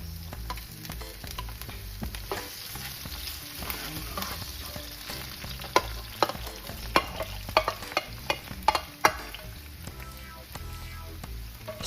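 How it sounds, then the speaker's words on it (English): Shrimp and gizzard stir-fry in a pan for coconut rice, a constant sizzle punctuated by sharp scrapes and clacks of a utensil stirring, loudest toward the middle. "So let's keep stir frying that for like 5 to 10 minutes."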